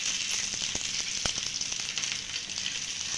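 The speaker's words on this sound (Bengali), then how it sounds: "আমি এখানে একটু তেল দিয়ে হালকা ভেজে নিচ্ছি।" Vegetable cake shallow-frying in a little hot oil, giving a steady, close sizzle with a few sharp crackles and pops scattered through it, no voices.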